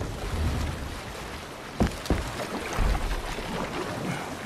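A Viking longship being rowed under sail in an action game carries a steady rush of water and wind, with a few sharp wooden knocks and splashes breaking through midway.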